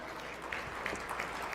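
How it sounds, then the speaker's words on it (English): Brief, moderate applause from guests at a Hall of Fame dinner, a soft patter of clapping in a banquet room lasting about a second and a half. "A round of applause for the folks at this table here."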